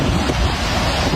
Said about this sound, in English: Look at the waterfall from here.